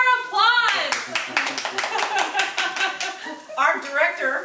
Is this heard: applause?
yes